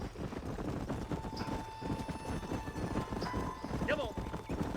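Horse hooves clop in a steady rhythm in the Red Dead Redemption video game, with a brief whinny under a low background rumble.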